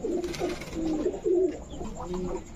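Pakistani Jhak-gola pigeon cooing: a series of low, throaty coos in soft repeated bursts, fairly close, with a brief stronger roll near the middle and no talking.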